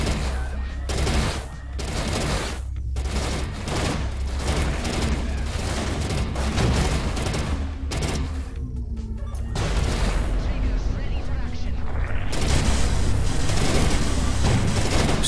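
Rapid bursts of weapon fire in the space shooter Everspace 2 while fighting enemy ships, dense repeated shots and booms layered continuously, loud and close, with a voice talking over parts of it.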